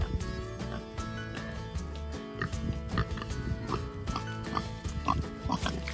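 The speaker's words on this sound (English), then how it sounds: "in the winter I raise 2 hogs here" Hogs in a small backyard pen grunt and oink repeatedly and close by, with busy overlapping snorts and squeals.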